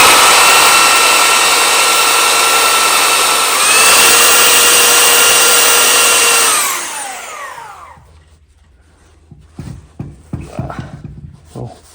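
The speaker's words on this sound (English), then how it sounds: "I want to make sure this is pretty well square, so I'm going to run my sander on." Power sander grinding a metal part from a 22hp Briggs & Stratton engine crankshaft flat and square: a loud, steady high whine that spins down after about seven seconds, followed by faint clunks and handling noises.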